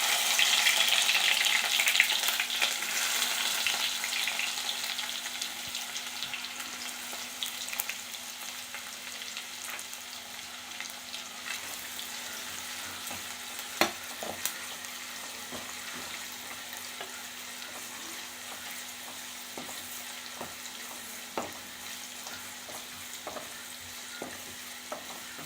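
Sliced onions sizzle in a pan of hot oil with fried fenugreek seeds for a Kerala-style fish curry, a steady hiss that is loudest at first and then settles, broken by occasional spoon clicks as they are stirred.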